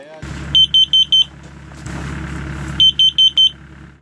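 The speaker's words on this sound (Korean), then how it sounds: "숯을 들여놓은 지 10분이 지나자 경보기가 울리기 시작합니다" A carbon monoxide alarm sounds inside a six-person winter camping tent where charcoal has been brought in, with two loud bursts of four rapid high-pitched beeps separated by a pause over a steady low rumble.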